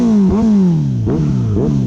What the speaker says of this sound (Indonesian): Suaranya gue yakin kalau lu bawa motor ini orang bingung dengan tampilan retro, tapi suaranya cukup gahar